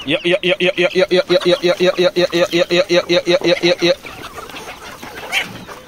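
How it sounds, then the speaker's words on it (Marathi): Poultry-farm chickens cluck rapidly while being fed dried fish. Loud, evenly pulsed calls repeat for about four seconds, then fade into quieter background with a faint call near the end. "सर्व कोंबड्या माझ्या मागे धावत आहेत, कारण मी थोडीशी सुकट आणलेली आहे त्यांना खाण्यासाठी."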